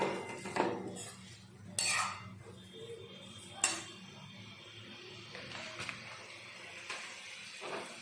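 Potatoes are stirred in a cooking pot, giving faint irregular scrapes and occasional metallic clinks of a spoon against the pot, quiet and spaced out over a low background hum.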